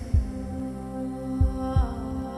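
Three heavy low thumps of a heartbeat sound effect, spaced unevenly over a steady low hum, loud and close with no voices, as in a dubbed South Indian horror thriller.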